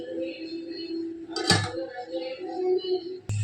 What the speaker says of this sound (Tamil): இப்போ மூடி போட்டோம்